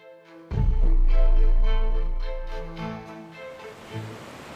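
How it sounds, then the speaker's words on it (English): A waterfall sound effect in an immersive audiobook of H. P. Lovecraft's The Shadow Over Innsmouth: a steady, full rushing roar begins abruptly over a low drone, stays loud, then gradually thins and fades. "I began to catch the steady note of a waterfall through the unnatural stillness"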